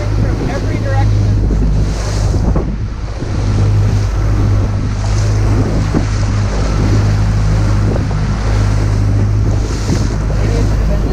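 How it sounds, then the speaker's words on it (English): Waves on Lake Michigan slap around a board under heavy, constant wind buffeting, a loud, continuous wash of water and gusts close to the microphone with occasional voices. "The waves are like coming from every direction."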